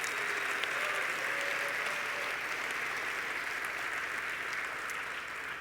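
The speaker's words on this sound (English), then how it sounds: "Let's get one more round of applause for this amazing Shop Talk community." Large audience at the Shoptalk 2022 conference opening applauding, dense steady clapping filling the hall and slowly tapering.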